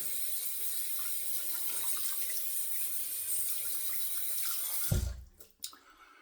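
A Zazor shavette razor is rinsed under a running tap: a steady, close rush of water splashes for about five seconds, then stops abruptly, followed by a few drips and light handling sounds.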